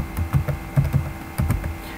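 Keys on a computer keyboard are tapped in a quick irregular burst of clicks, typing text into a PowerPoint 2013 table, close and clear with no voice over it.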